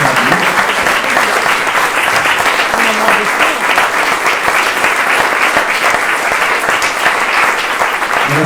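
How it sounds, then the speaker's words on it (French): Loud, sustained applause from a large audience after a series of talks at a public policy evening, a dense unbroken wash of clapping from start to finish. "Je crois que ça mérite un applaudissement pour toutes les interventions qu'on a entendues."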